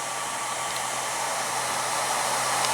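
A drill press motor driven by a VFD winds down after being stopped, giving a steady, loud broadband whir that holds evenly for a few seconds with no talking.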